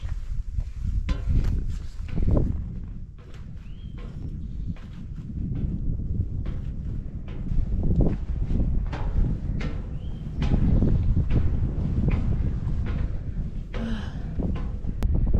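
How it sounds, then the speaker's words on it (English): Gusty wind buffets the microphone in heavy low rumbles that rise and fall, with faint rustling and occasional clicks, near a fire tower on the Appalachian Trail. "It's pretty windy"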